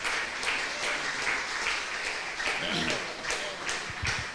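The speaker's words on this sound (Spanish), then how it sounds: "Denle un fuerte aplauso al Señor." A church congregation applauds in a dense, continuous wash of clapping, with a few louder claps and faint voices mixed in near the end.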